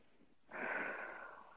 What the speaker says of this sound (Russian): Просто дыши глубже.